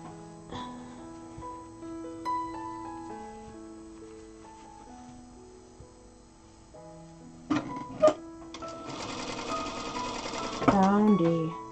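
A Zoje ZJ9703AR-D4J/02 industrial sewing machine stitches a doll sleeper from fabric in short bursts, quiet at first and then louder rapid runs near the end, with a person talking throughout.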